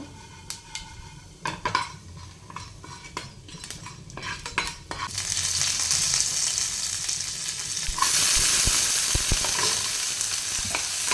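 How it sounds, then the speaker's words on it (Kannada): Mustard seeds, chana dal and urad dal fry in hot oil for a Karnataka tindora (ivy gourd) palya, opening with scattered pops and utensil clinks, then swelling into a steady, loud sizzle that grows stronger toward the end. "ಸಾಸಿವೆ, ಕಡಲೆಬೇಳೆ, ಉದ್ದಿನ ಕಾಳು ಇದೆಲ್ಲ ಸ್ವಲ್ಪ ಫ್ರೈ ಆಗಬೇಕು"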